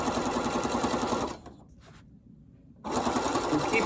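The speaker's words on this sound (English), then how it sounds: "keep sewing until I almost get to the halfway point" A sewing machine runs at a steady close whir as it sews double folded bias tape, pausing briefly in the middle before starting up again.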